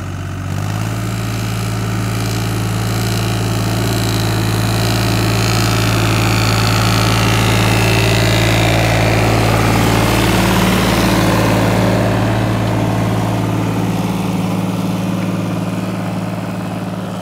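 An IHC 633 tractor's engine labors steadily while pulling a plough through a field, a loud, continuous low diesel drone that swells to a heavier strain midway and then eases slightly, with no voices.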